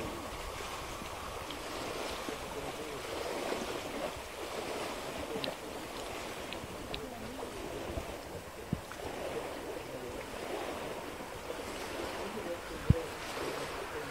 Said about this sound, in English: I hope my microphone is picking up the sound of the water.